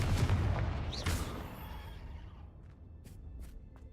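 Confringo fire spell blast in the Hogwarts Legacy video game: a loud burst with a sharp crack near one second, decaying into a fading rumble, followed by a few faint later pops.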